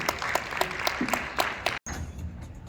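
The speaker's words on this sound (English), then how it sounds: "I want you all to give a round of applause to Regina Livingston of Unspoken Treasure Society." Applause for an award honoree at a leadership summit ceremony, sparse individual claps standing out over a murmuring crowd, a brief drop-out near the end before the clapping continues more softly.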